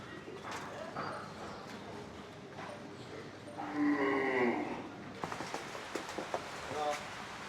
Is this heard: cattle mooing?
yes